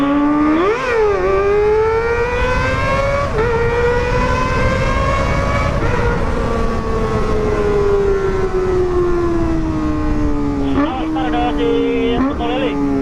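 A Kawasaki ZX25RR motorcycle fitted with a Proliner exhaust screams loudly and continuously, its high-revving four-cylinder pitch swooping up and down through repeated throttle blips and sustained revs.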